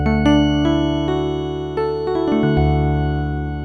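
Roland D-10 synthesizer piano patch built from layered sawtooth partials, playing a run of sustained notes with sharp attacks that ring on and overlap, ending on a held low tone, with no voices present.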